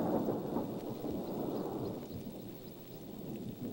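Thunder rumbles low and continuous under a steady wash of rain, a loud, dense storm sound with no voices.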